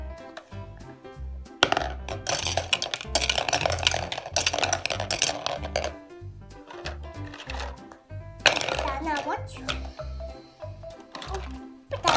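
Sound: child stirring in pots while pretend cooking

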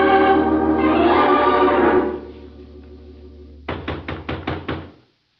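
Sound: knocking on a wooden hut door

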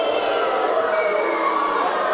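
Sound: wrestling audience cheering

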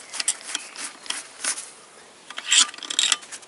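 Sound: opening a large engine bolt

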